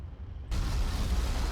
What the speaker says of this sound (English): Bombs are landing.